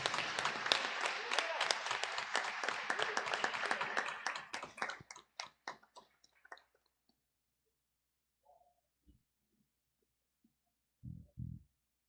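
Church congregation applauding for Jesus during a Sunday morning service: sustained clapping that thins into scattered individual claps and fades to near silence, followed by a couple of faint, brief sounds.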